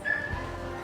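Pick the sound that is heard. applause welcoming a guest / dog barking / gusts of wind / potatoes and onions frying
dog barking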